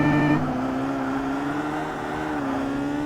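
A race car engine in the 2005 video game Forza Motorsport drones steadily, a loud sustained tone that dips slightly and then climbs again, with no talk over it.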